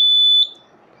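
A smoke alarm in an Arduino gas sensor project emits a loud, steady piercing electronic tone that cuts off abruptly, leaving faint room noise.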